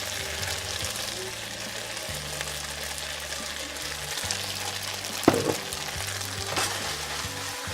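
Noodles stirred and frying in a pan over medium heat for Thai rad na, a steady close sizzle with scraping stir sounds and a brief sharper clatter midway.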